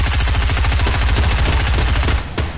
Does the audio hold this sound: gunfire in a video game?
yes